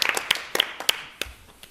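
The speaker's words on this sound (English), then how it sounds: "maybe we can give them a round of applause" A small gathering at a parks and recreation commission meeting gives a brief round of applause for departing members, with scattered, sparse claps close by that thin out quickly.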